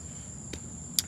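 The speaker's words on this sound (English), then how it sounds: "insects and cicadas and stuff like that" Insects and cicadas chirping outdoors, a faint, steady high-pitched drone with two brief soft ticks over a quiet background.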